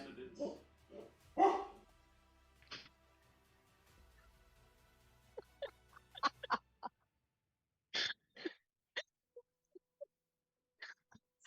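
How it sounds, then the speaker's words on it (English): A dog named River, a female, gives scattered short barks and yips at a distance, under and between people talking, with the barks growing sparser toward the end. "River Doggy. River, be a good girl"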